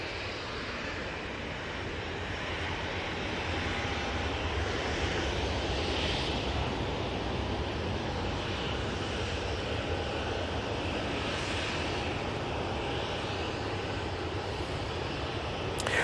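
A Gulf Air airliner lands at Manchester Airport in a crosswind, its engines a fairly faint, distant broadband roar that swells gently and stays steady for the whole span, with no voices.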